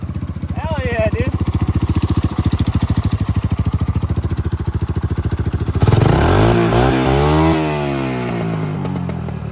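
A mint 1986 Honda Big Red three-wheeler idles with a fast, steady thumping rhythm, then revs up loud and close around six seconds, the pitch rising and falling; a voice speaks briefly over the engine.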